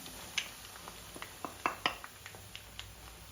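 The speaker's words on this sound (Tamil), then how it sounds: "பொடியை நல்லா எண்ணெயில் வதக்கி விட்டுடுவோம்" Spice powder stirred in sesame oil with mustard seeds and two dried red chillies in a pan for amla pickle; soft scattered clinks and scrapes of a utensil against the pan over a faint low background, no talking.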